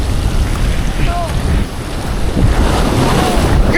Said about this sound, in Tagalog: May malakas na alon.